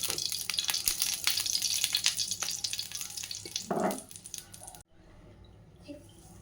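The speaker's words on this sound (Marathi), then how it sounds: "बघा गाईज, मस्तपैकी आपलं फ्राय होत आहे." Beetroot tikki fries in ghee with a busy, crackling sizzle and scattered pops that hold strong for several seconds. A brief scraping stir follows near the end, then the sound cuts to a quieter, fainter sizzle.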